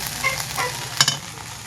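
Oil sizzles steadily in a pan while shrimp and radish greens are stirred, with a few soft scraping clicks over the constant frying hiss.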